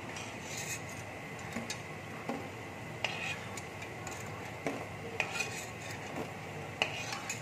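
Fried soybean dhoka being lifted from the pan onto a plate, with light clinks and scrapes of a utensil against cookware ringing out at irregular intervals over a faint background hiss.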